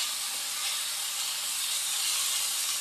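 Kangkong (water spinach) dropped into a hot pan gives a steady, loud, bright sizzle that holds evenly close up throughout, with no talking.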